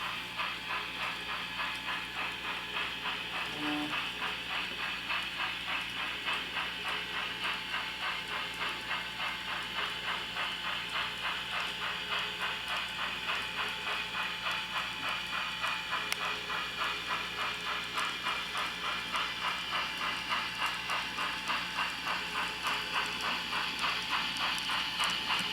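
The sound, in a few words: model steam train running on track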